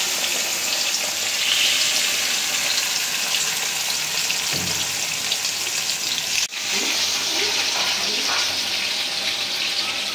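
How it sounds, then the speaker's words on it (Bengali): Kalibaus fish frying in soybean oil in a karahi during village-style home cooking, giving a steady, loud, close sizzle that runs unbroken throughout with a brief dip near the middle and no talking. "মাছটা ভাজার জন্য কড়াইতে সয়াবিন তেল দিয়ে দিলাম।"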